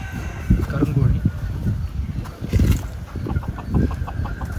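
Black Kadaknath chickens cluck and murmur nearby in a busy coop, with occasional louder calls and a voice talking over them.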